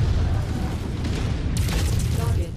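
A destroyed target bursts in a MechWarrior 5 co-op fight, a loud sustained booming blast with a rumbling low roar and a sharper crackling surge partway through, dense and continuous.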